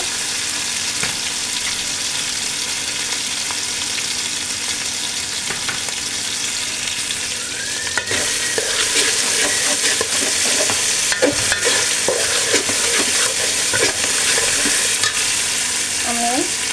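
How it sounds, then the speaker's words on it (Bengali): Ginger sautéing in a pan for a Bengali mustard-paste katla fish curry, a steady broadband sizzle with stirring scrapes, growing louder and busier about halfway through, no talking. "আদাটা দুই তিন সেকেন্ড ভালোভাবে কষানো হতে হতে"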